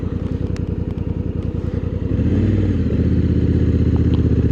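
A 2024 Honda Africa Twin motorcycle runs at night, its engine first a rapid, even putter at idle, then rising into a louder, fuller drone as it pulls away, close to the microphone.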